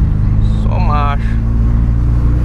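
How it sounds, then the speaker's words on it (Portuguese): A boxy Volkswagen Gol engine runs close by with a steady droning hum as it accelerates, and a voice speaks briefly over it. "Dá uma aceleradinha aqui. O bicho tá andando, hein?"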